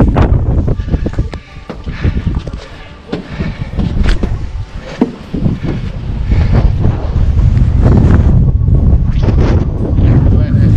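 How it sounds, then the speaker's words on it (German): Strong wind gusts buffet the microphone atop a lookout tower at the Kammersteinhütte in the Wienerwald, a loud continuous roar with rumbling low-end surges that intensify toward the end. "Ganz schöner Wind da oben."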